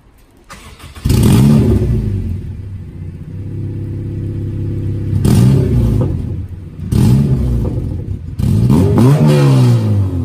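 A car engine with a modified exhaust manifold starts and idles with a loud, deep rumble, then revs up in several surges, recorded close by with no talking.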